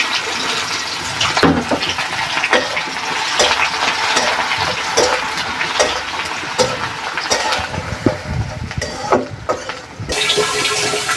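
Onions added to hot oil with cardamom, cinnamon, cloves and bay leaf, cooking for an egg and chana dal dish; a steady broadband frying hiss runs throughout, with scattered stirring clicks and scrapes close by.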